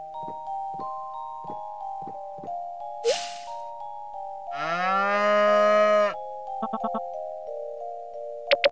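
A cow moos in the Harvest Moon One World video game. One long, loud bellow rises over a steady tone of game music, with chimes and short clicks before and after it.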